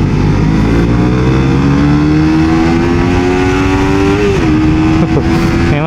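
A Suzuki GSX-S150 small naked motorcycle engine revs loud and high, its whining pitch climbing steadily before dipping briefly and holding near the end.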